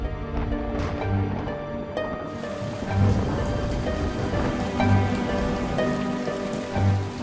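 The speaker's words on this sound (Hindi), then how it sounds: "बाप रे, फिर से बारिश शुरू हो गई।" Heavy rain pours down in a dense, steady hiss with constant patter on surfaces, loud and close, swelling slightly in a few low rumbling surges.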